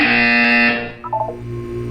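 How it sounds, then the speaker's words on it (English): A loud electronic buzzer from the video game Portal 2 sounds alone in one steady tone, then cuts off and is followed by a short, softer stuttering blip. "You will hear a buzzer. When you hear the buzzer, look up at the ceiling."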